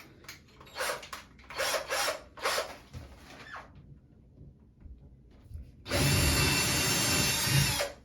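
A power drill whines in several short bursts, then runs in one longer, louder continuous stretch, close up and alone, drilling quarter-inch holes into a wall.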